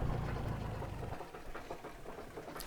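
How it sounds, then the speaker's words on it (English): A Cessna 172R engine in a flight simulator winds down to shutdown after the mixture is pulled, a steady low idling drone that fades and roughens as it slows, with no talk over it. "The engine will come to a stop."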